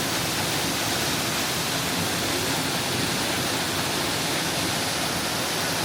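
Paddy's Falls waterfall on a sunny, hot day: a dense, steady rush of falling water close by, filling the whole clip without a break and with no voices.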